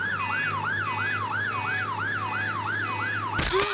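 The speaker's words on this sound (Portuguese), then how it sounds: "uma ambulância passa por cima dela" A cartoon ambulance siren wails in a steady, rapid up-and-down cycle, loud and close with no talk, then breaks off in a sudden crash near the end.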